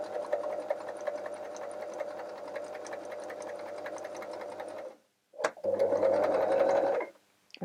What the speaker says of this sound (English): you can press the foot pedal that's on the floor and start to sew